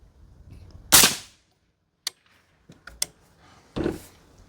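A suppressed PRI MK12 .308 rifle fires a sharp, loud shot early on, followed by a few faint clicks and clatters of handling and a later softer thump, outdoors and close.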